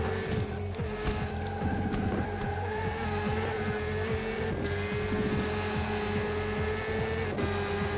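Race car engine from the Le Mans 24 Hours game on PS2, a Porsche GT, revs high, then drops through rapid downshifts under braking. A steady, loud engine drone is broken by repeated blips and falling revs, with no talk.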